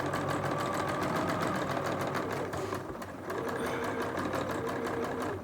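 A sewing machine runs steadily and close by, stitching one continuous round along a fabric A5 notebook cover, with a brief dip in the motor hum partway through before it picks back up.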